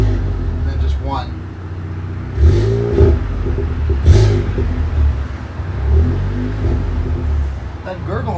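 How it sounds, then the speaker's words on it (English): A Volkswagen Golf R with an exhaust leak in the downpipe and a new tune idles, then revs sharply in several bursts, its exhaust gurgling and rumbling while someone talks over it. "That gurgle started after the last tune was installed."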